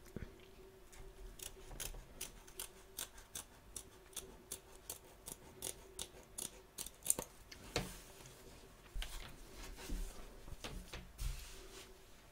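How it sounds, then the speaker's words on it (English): Scissors trim fabric around the raw edge of machine embroidery still in its hoop, producing a quiet, steady series of crisp snips in even rhythm, close and alone over faint background. "We're now going to trim up around the raw edge here, ready for our next join in our next hooping."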